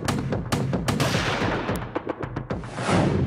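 Gunfire erupts during violence at polling in the Haryana assembly election: a rapid series of sharp, loud cracks and booms at irregular intervals, some close together, followed by a rushing wash of noise.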